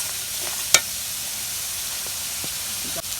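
Potatoes and vegetables hitting a hot frying pan give a steady, bright sizzle and hiss, with a couple of small clinks over the top.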